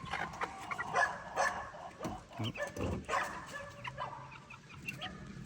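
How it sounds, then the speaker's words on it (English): A puppy barks repeatedly in short, uneven bursts close by, with outdoor backyard noise and a few yips between barks. "Excuse our puppy barking."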